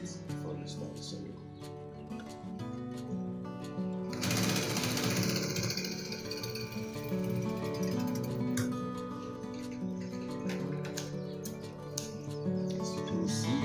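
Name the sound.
sewing machine sewing a shirt's label inner facing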